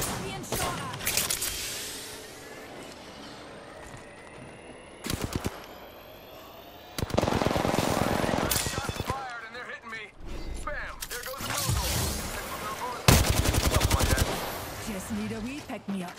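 Gunfire in the video game Apex Legends, several loud bursts of rapid automatic shots and single cracks in clusters, with short gaps and background game noise between them.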